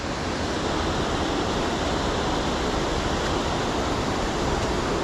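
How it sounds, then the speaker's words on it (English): Big drop waterfalls at Hareshaw Linn pour down through large boulders, one drop after another, making a dense, unbroken rushing roar heard from nearby. "there's some beautiful big drop waterfalls over there"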